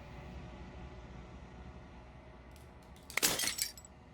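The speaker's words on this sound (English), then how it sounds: "Final fragment of glass shatters." Glass shatters loudly in the game Slay the Princess, a bright burst of breaking shards and tinkling fragments rising over a low ambient hum.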